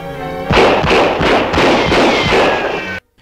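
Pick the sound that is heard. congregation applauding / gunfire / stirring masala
gunfire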